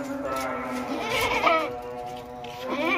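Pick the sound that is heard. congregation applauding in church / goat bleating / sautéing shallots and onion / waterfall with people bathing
goat bleating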